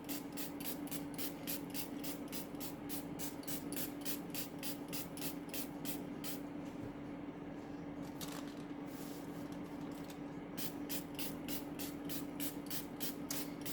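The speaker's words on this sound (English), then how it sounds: "I'm going to spray it with water to give it some steam." A hand spray bottle mists water over rye bread dough just before it goes into the oven, a quick regular series of sharp, close hissing squirts with a brief pause partway through.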